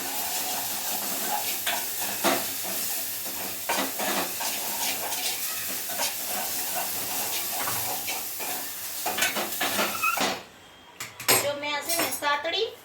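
Green garlic sautés in a pan, making a steady sizzle broken by frequent clinks and scrapes of a spoon against the pan. Toward the end the sizzle drops out, leaving scattered utensil knocks.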